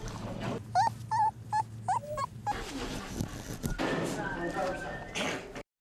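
Several puppies play together, yipping, whimpering and giving small growls in quick bursts at close range, with a person talking over the latter half.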